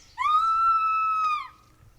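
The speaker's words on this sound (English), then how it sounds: "Yeah, somebody screamed." A single high, sustained scream rings out from someone outside a cabin, piercing and steady for over a second before trailing off, with a faint low rumble underneath and no talk.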